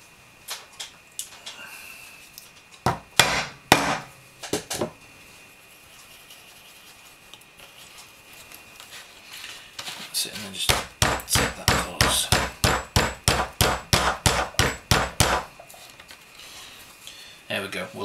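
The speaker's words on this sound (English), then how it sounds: "I'm going to put two rivets in it so that it doesn't twist in any way." Rivets being hammered into a leather knife sheath for a Rat Cutlery RC-3 knife, heard as a few sharp taps early on, then a fast, steady run of close, loud hammer blows.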